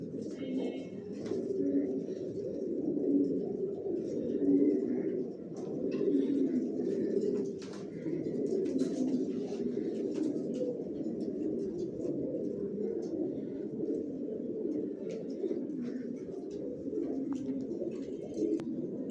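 Racing pigeons of an original racer line, master and stock pairs, murmur together in a loft, a steady close chorus of overlapping coos that runs without pause throughout.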